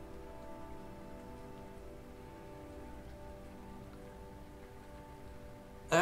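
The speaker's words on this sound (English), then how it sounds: "It's raining again." Steady rain falls in the noir detective game Rainswept, a soft, even patter over a low hum of background music, ending in a sudden louder burst.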